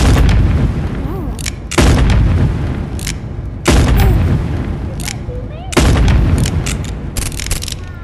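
Gunfire in the video game Animal Company, four heavy booming shots spaced about two seconds apart, each with a long decaying tail, loud and close, with brief sounds between them.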